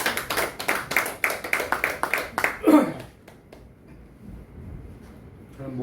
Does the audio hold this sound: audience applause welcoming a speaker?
yes